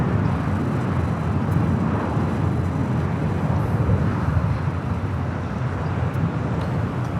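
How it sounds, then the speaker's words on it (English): Boeing 787 Dreamliner turning onto a taxiway at LAX, its engines a steady, broad, low roar that stays constant and fairly loud, with no voices over it. "Dreamliner about to make that left-hand turn onto taxiway Bravo"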